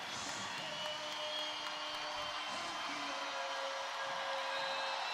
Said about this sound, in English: And listen to the crowd erupt